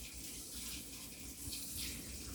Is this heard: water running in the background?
yes